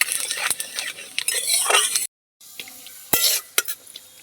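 Whole spices, bay leaf, cinnamon, cardamom and cumin, fry in oil in a pan, crackling and sizzling close by with sharp clinks and stirring scrapes, broken by a brief silent gap.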